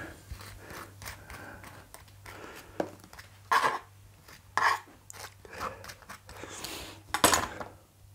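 A knife scrapes and spreads butter across a toasted crumpet in a quiet kitchen, making soft, irregular scratchy strokes with a few louder rasps, close up and alone.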